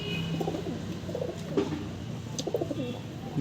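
Giribaz pigeons coo softly in repeated low, throaty bursts, with several birds nearby and faint background rustle.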